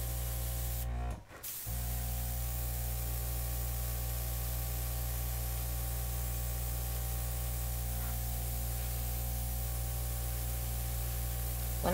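A steady airbrush hiss sprays acrylic paint for a flip-and-drag pour, running continuously and close with one brief break near the start and no voices.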